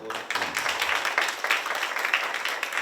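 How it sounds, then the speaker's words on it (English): Audience applause at a Hindustani classical music concert in a temple hall, steady crowd clapping that fills the whole moment at moderate volume. "So may I request a big round of applause for both of them?"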